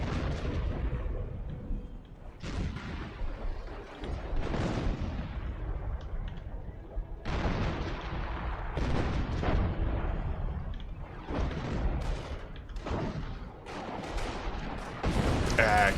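Artillery barrage crashing down in a World War II strategy game, a run of heavy booming impacts and rumbling blasts spread through the whole stretch, with dense battle noise filling the gaps between shells.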